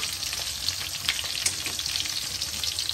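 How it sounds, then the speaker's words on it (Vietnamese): Tofu deep-fries in hot oil until crisp, giving a continuous close sizzle with bright crackles and pops scattered throughout and no talk. "Hủ mình mua về mình bỏ vô dầu vô mình chiên cho giòn rồi ha."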